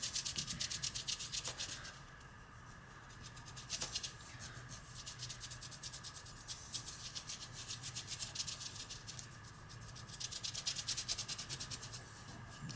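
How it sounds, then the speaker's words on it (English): A finger rubs medium across the surface of a small artist trading card, producing close, dry, scratchy strokes in repeated bursts with brief pauses, quiet and alone. "Spread it out a bit, and then just do the rubbing."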